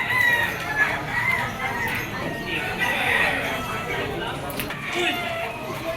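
A white-legged bulik stag gamecock at a pet market in Malabon crows amid a busy, noisy crowd, its call rising over steady background chatter and other bird sounds.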